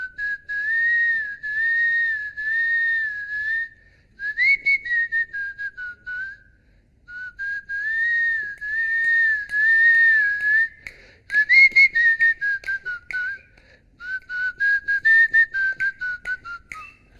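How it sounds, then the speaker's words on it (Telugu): A person whistles a song tune from the Telugu film Power in long, clear melodic phrases with brief breaths between them. The whistling is close and loud, with no talking. "రవితేజ గారి దాంట్లో విజిల్ ఉంటుంది బాబు"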